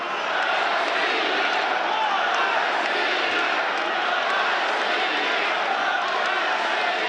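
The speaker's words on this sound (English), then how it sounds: "Crowd is very loud and vocal in support of the Russian." Loud, steady crowd noise fills a judo World Cup tournament hall (Kharlampiev Memorial 2017), with spectators roaring and shouting in support of a Russian competitor as one continuous wall of sound.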